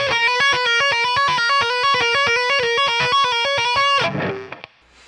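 Electric guitar played with the left hand alone, no picking, running a fast, even stream of hammered-on and pulled-off notes through a distorted tone, loud and close, ending in a muted scrape and fading ring.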